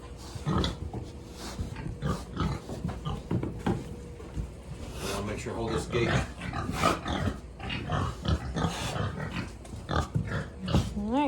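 Pigs grunt and snuffle on a muddy farm, a busy stream of close, irregular oinks and squeals from several animals, with a person speaking now and then over them and a gate rattling.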